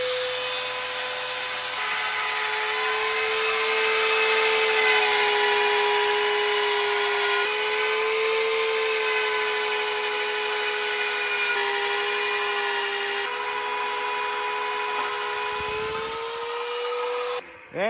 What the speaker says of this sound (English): So we're gonna go ahead and drill this hole